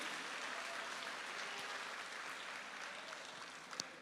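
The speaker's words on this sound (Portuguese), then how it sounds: "aplauda ao Senhor" A church congregation applauds during a sermon, a soft, continuous wash of many hands clapping at a distance, faint and even throughout.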